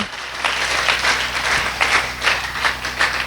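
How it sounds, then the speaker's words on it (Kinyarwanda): Audience at a church sermon claps in a steady rhythm, with sharp bursts about every half second over a low, constant hum. "Bega amashyi, ntabwo twakomera Imana amashyi menshi."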